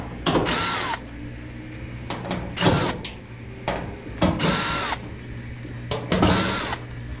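A power drill backs screws out of a panel on a Maytag Bravos XL washer or dryer in a home repair, giving several short whirring bursts with ratcheting clicks, close and loud, separated by brief pauses.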